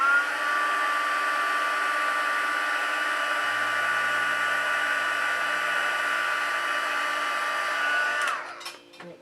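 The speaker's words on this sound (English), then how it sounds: "I'm just going to go ahead and heat set that like we did with the eyes" A heat tool heat-sets paint in a creasing tutorial, giving a loud, steady blowing drone for about eight seconds. It then switches off with a few clicks and a short rattle.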